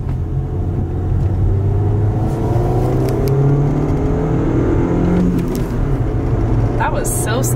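A manual-transmission car accelerates through its gears, the engine note climbing and dropping with each shift, steady and close inside the cabin while people talk over it.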